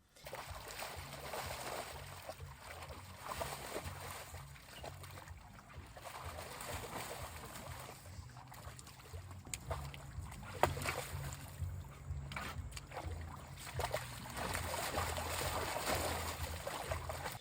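A pet kicking water around in a baby pool, producing soft irregular sloshing and light splashes with a brief sharper splash midway, faint and continuous over a low background hum.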